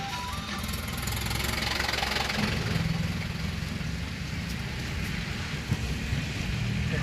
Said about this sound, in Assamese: ট্ৰেক্টৰ।